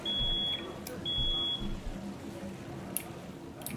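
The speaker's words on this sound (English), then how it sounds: "Is that the fire alarm?" A fire alarm in a kitchen in the video game One Handed Chef gives two sustained electronic beeps at the start, fairly faint over low background clatter, followed by a few sharp clicks.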